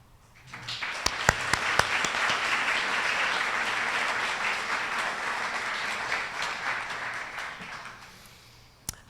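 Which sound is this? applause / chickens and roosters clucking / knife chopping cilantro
applause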